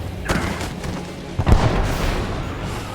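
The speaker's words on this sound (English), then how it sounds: "Their artillery's targeting you. Incoming." Artillery fire in the Marvel's Avengers video game: a couple of dull booming thuds, the louder one mid-clip, over a dense rumbling battle background with no speech.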